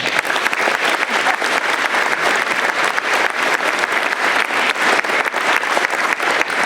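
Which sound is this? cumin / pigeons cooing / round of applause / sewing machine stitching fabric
round of applause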